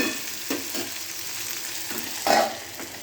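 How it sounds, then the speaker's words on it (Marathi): Cowpea pods frying in oil in a pan, with a steady close sizzle and a few brief stirring scrapes, no voices. "इथे आपण तेलामध्ये फ्राय केलेले शेंगा आता झाकून ठेवणार आहोत"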